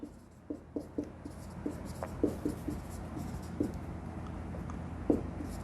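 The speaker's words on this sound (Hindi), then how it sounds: "तो यहां मैं लिखूंगा" Chalk or marker writing on a classroom board during a Hindi geography lecture on drainage systems, a series of short taps and scratchy strokes in irregular bursts, close and fairly quiet over a steady room hum, with no talking.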